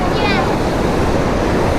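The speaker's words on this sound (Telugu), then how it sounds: "చూడండి బీచ్ కెరటాలు నిజంగా ఎంత ఫోర్స్గా వస్తున్నాయో" Sea waves surge and crash without pause on Mahabalipuram beach, a loud close roar of surf mixed with wind buffeting the microphone.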